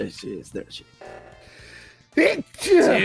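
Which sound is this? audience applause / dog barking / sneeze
sneeze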